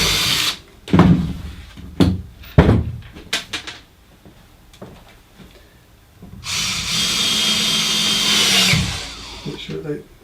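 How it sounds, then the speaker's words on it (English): A power driver sends a couple of screws into a router table sled, countersinking them, in one sustained whirring run after some knocks and handling noises. "pop in a couple of screws"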